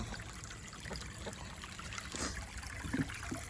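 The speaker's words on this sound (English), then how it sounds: "that's the water I'm filling." Water running and trickling steadily into a container, a soft continuous splashing flow at close range with small knocks and clinks.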